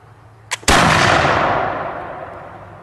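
18th-century musket fired: a small priming crack, then a split second later a loud, close boom that decays slowly into a long echoing tail.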